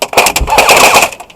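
An airsoft gun fires outdoors in rapid bursts of sharp, snappy cracks, close and loud, with several quick shots packed into little more than a second.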